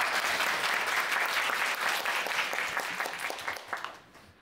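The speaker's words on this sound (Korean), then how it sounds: "박수 쳐주시면." An audience at a bookstore economics lecture breaks into warm applause, loud and dense at first, then thinning and fading out over about four seconds.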